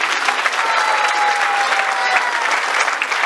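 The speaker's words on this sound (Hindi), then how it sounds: "एक बार फिर से तालियां इनके लिए" Audience at a Bhagwat Katha religious gathering in Mauritius applauds a speaker with steady, dense clapping that holds loud and even throughout, with a faint voice carrying over it.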